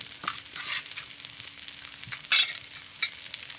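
A spoon stirs and mixes cooked rice with ghee and fried onions in a pot for hilsa pulao, giving soft scraping and clinking strokes with a few sharper taps, fairly quiet and close.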